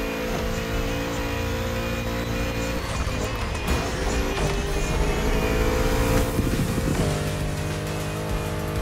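A Bugatti runs flat out at top speed in The Crew Motorfest, its engine droning loud and constant with layered tones, rising whine and brief tire noise as the car surges along without letup.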